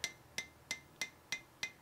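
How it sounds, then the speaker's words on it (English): A hammer strikes a Vulcan anvil with its ball side, six sharp metallic taps at an even, unhurried rhythm, each ringing briefly before the next, close and clear with nothing else heard. "I'm hammering on the corners there just to improve the durability"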